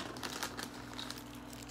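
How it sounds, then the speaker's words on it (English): Quiet crinkling of a plastic wrapper, soft crackly rustles in short bursts over a low steady hum. "just like a plastic wrapper or plastic bag"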